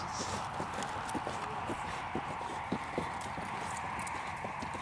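Large East Coast-bred horses' hooves clip-clop in a steady, even rhythm under a constant background hiss, faint and somewhat distant.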